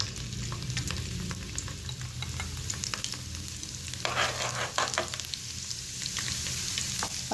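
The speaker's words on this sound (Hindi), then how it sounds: "ऑयल हमारा गर्म हो गया अच्छे से, अब हम इसके अंदर लहसुन ऐड कर देंगे।" Garlic pieces frying in hot oil for a dal tadka, a steady close sizzle and crackle with bursts of sharper spitting, with no talking.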